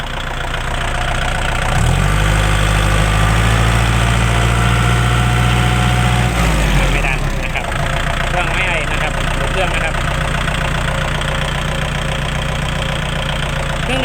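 A Kubota L4508 four-cylinder diesel tractor idles close by, a steady low rumbling drone with a brief shift in pitch partway through, then settling back into an even idle.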